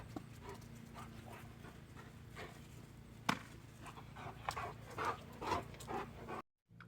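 A restless dog moves around indoors, its paws clicking and clattering in irregular bursts, with soft panting and scuffling under a steady low hum and no talk.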